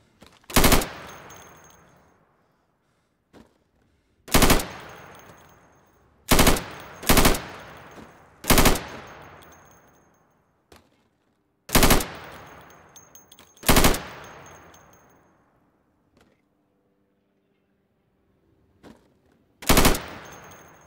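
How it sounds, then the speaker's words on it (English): Pistol shots from a sidearm at pop-up targets in the Insurgency video game: about ten sharp, loud single reports at irregular intervals, some in quick pairs, each with a short echoing decay and quiet gaps between. "So you can shoot accurately over 20 feet with your sidearm."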